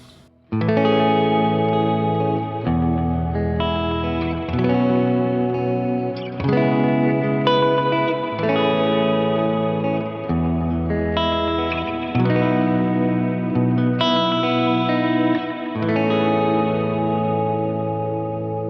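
Sustained electric guitar chords through a Line 6 HX Stomp with delay and a Princeton Reverb patch, played in slow changes roughly every two seconds, notes ringing and trailing into each other with echoing tails.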